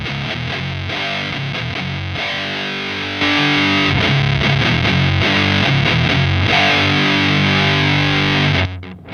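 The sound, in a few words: Lichtlaerm Audio Ritual distortion pedal, fuzzy broken sounds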